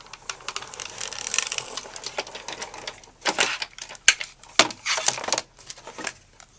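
A Genius Ultimate Platform embossing machine works a tag, giving a soft mechanical whir followed by sharp clacks, ratchety clicks and rattling bursts, close and moderately loud.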